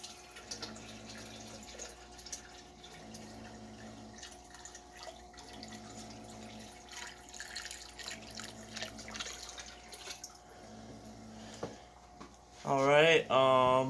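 Water trickles slowly into a bucket in a betta fish tank setup, a faint, steady dribble and drip under a low hum, with a louder splashing burst right at the end.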